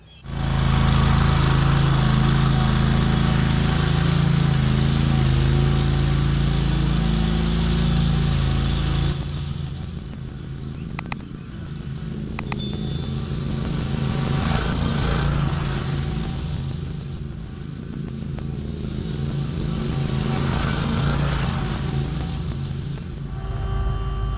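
A tractor working in a yard, spreading dirt during a ditch and lawn renovation; a loud, steady engine drone dominates the first stretch, then continues somewhat quieter and uneven with some clanking, alone without talk.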